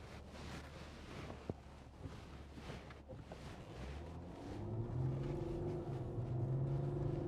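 A 2012 Porsche Panamera 3.0 TD V6 Tiptronic S on a road test drive, steady low engine and road rumble with wind buffeting, rising into a louder droning hum near the end, no talking.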